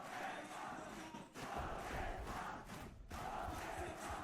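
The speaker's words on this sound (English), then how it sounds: "Listen to the crowd willing them forward." Dense, sustained roar of an esports arena crowd cheering during a VCT Ascension Pacific 2024 Valorant match, loud and continuous with brief dips, swelling as the team pushes forward.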